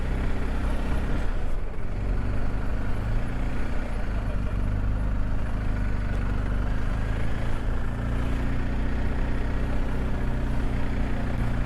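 A BMW GSA 1250 motorcycle engine drones steadily at low pitch during a short ride through a village near Buxton, constant and fairly loud with no voices.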